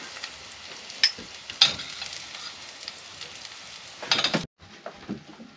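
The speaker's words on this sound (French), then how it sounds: "Et après on cuit les steaks hachés" Ground beef patties sizzle in a frying pan aboard a sailboat, giving a continuous hiss with a few sharp spits and scrapes before the sound cuts off abruptly and then resumes more faintly.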